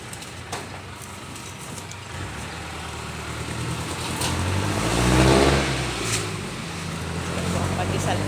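Cars and trucks roll along a highway in a steady rumble, with one heavy vehicle swelling loudly as it passes midway and more traffic rising behind faint background voices.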